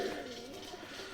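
Caged breeding pigeons coo softly in a brief, low, murmuring call that sounds faint and somewhat distant.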